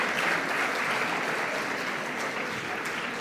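Audience at a business conference in Mumbai giving a panel a round of applause, a dense, steady wash of many hands clapping throughout.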